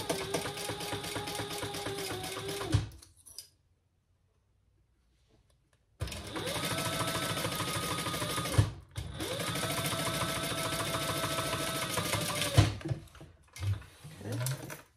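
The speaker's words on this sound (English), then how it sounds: "I'm just going to top stitch across the top." A sewing machine top-stitches across the top of a small tote bag in long continuous runs of rapid, loud, even mechanical chatter, broken by a few seconds of silence and short pauses between passes.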